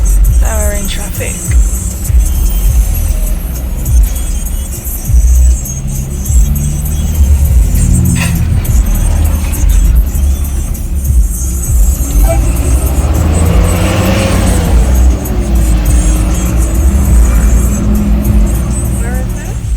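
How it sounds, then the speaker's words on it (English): Road traffic in Jamaica, near Riverton City, heard from inside a moving car: a steady engine and road drone with passing vehicles and occasional revving, while people talk over it intermittently. "Now we're in traffic."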